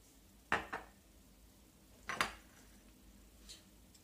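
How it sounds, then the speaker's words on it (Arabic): A small spoon clinks against a bowl while vinegar and coconut oil are measured in for a face mask. Two pairs of bright metallic taps are followed by a fainter single clink, all close and quiet with no talk. "كناخدو معلقه صغيره ديال زيت الكوك"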